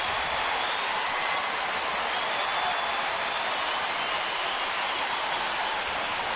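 A baseball stadium crowd at a Rangers versus Astros game roars and applauds a catch, a dense, steady wash of cheering and clapping throughout with no break.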